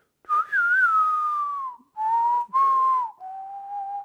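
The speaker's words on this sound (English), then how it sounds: "The whistle." A solo whistled melody in the style of the Mandalorian theme, evoking spaghetti western music: a clear, close whistle with one long sliding phrase, then several shorter held notes separated by brief pauses.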